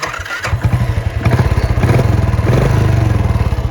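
A Royal Enfield Classic 350 motorcycle is electric-started; the starter cranks briefly before the engine catches and settles into a loud, steady, rhythmic thumping idle.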